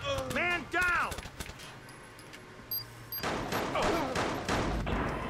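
Gunfire during a shootout in the video game Watch Dogs, heard as a cluster of sharp shots early on and a denser burst of firing near the end, with a player talking over parts of it.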